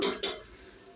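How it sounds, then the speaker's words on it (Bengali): A metal lid is set onto a cooking pot while a bottle gourd dish cooks: two quick clanks in close succession that ring briefly and fade, with no talking. "মা এখানে আবার ঢাকা চাপা দিয়ে দিল।"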